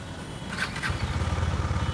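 A Husqvarna Svartpilen 250 motorcycle engine runs close by and is blipped once, rising to a steady throbbing rev with rapid pulsing exhaust beats.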